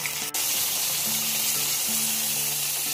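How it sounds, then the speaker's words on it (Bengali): Paneer fries in hot oil in a pan, a steady close sizzle running evenly through the short stretch with no one speaking. "তেলটা গরম হয়ে গিয়েছে, এবার পনিরটা ভেজে নেব।"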